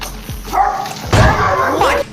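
A dog barks and yelps at a goat, several loud close barks over a noisy outdoor background that may include some voices.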